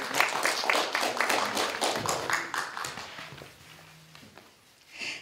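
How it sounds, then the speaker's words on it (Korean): Audience applause at an arts troupe's appointment ceremony in Hongseong County, a dense patter of clapping that fades and thins over several seconds, with a brief swell at the end. "여러분 뜨거운 박수 또 부탁드립니다"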